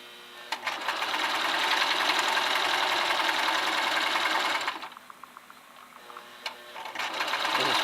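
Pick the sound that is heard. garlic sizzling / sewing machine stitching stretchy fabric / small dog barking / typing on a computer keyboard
sewing machine stitching stretchy fabric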